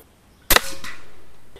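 A single sharp report from a P35X Evolution air rifle firing a slug at 51 metres, loud and close, followed by a short trailing ring and a faint tick about a second later.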